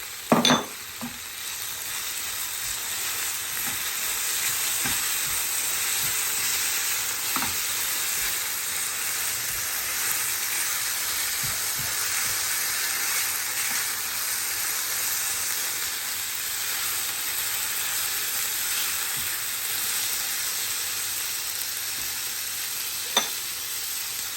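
Onion and tomato go into a pan of frying boot (chickpea) curry, giving a steady hiss and sizzle throughout with occasional stirring scrapes and a few sharp clinks, alone without talk.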